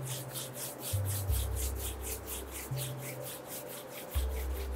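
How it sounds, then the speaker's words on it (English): Palms rubbing together during a seated yoga practice: a steady, close, rhythmic brushing rasp of skin on skin, repeating quickly and evenly with no talking. "gently rub your palms"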